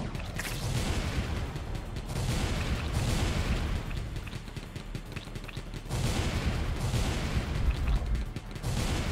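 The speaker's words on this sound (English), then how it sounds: "Heavy machine gun from what?" Heavy machine gun firing in the video game Wall World: sustained, dense rapid bursts with booming impacts, loud and continuous in long stretches with brief lulls, no talking.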